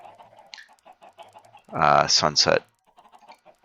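Chickens clucking in Minecraft, a short loud burst of a few clucks in the middle, set against someone talking quietly before and after.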